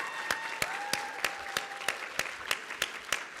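A banquet audience at an annual leadership recognition banquet applauds students, staff and dining and catering crews, fairly faint with distinct, evenly spaced claps standing out over a soft room hiss.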